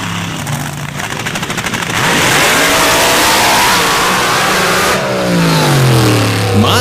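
A drag racing car with a supercharged 500 cubic inch Alan Johnson engine and 14-71 Whipple blower launches at a championship meet, a loud, close, crackling roar that rises and holds with shifting engine pitch.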